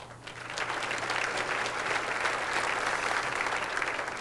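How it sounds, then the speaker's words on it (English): Sustained applause from a standing-room-only crowd at a bowling center in Peoria, Illinois, during a professional bowling match, steady and dense throughout without any talk. "Appreciation of the standing room only crowd here at Landmark Recreation Center."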